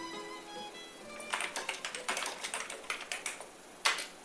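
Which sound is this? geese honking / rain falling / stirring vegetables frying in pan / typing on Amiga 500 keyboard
typing on Amiga 500 keyboard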